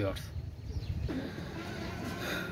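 Pakistani teddy pigeons coo softly in a loft, a few low, rolling calls close by, with someone talking over them.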